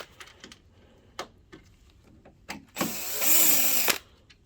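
A power tool loosens captive screws on an Eiki EK-612X DLP video projector: scattered small clicks and taps, then a loud whirring burst of about a second before quieter handling clicks return.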